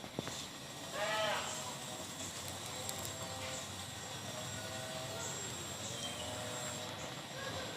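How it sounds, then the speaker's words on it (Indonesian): A goat bleats once, close by and fairly loud, over a steady outdoor background hum, followed by a few fainter, more distant calls. "mohon maaf jika teman-teman mendengarkan suara dari kambing ya"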